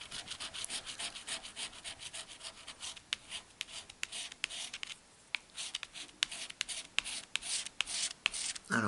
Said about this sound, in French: Bon, ça gratte, ça gratte.